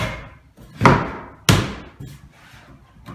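A latch dropping onto an MDF bridge frame in a workshop gives two sharp, solid wooden thuds about half a second apart, close and loud, each with a short ringing decay, followed by quieter handling knocks.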